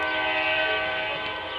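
A short CSX freight train at Marion, Ohio sounds its horn, a loud sustained multi-note chord blaring steadily from close by with faint rail rumble underneath.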